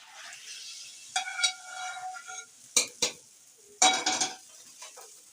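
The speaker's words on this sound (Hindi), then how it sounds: "अब ये मैं निहारी में इसका तड़का लगा रही हूँ।" Brief bursts of sizzling as hot oil tempering hits beef nihari stew, several sharp hissing flares between quieter stirring and clinking, fairly close.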